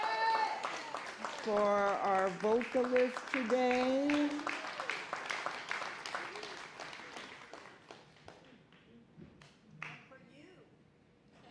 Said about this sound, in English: another round of applause for Glinda and Darlene, for our band today